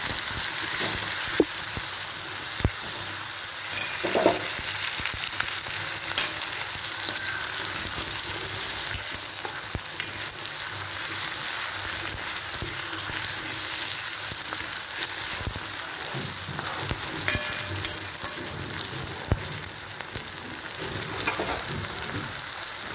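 Salted tomatoes sizzle and sauté in a pan, a steady close frying hiss broken by occasional scrapes and clicks as they are stirred, with no talking.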